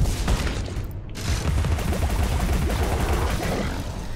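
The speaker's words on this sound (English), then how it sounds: "Now I'll shoot your bullets back at you." Rapid gunfire rattles in the video game Alice: Madness Returns, a dense burst of overlapping shots and impacts that barely pauses over a few seconds.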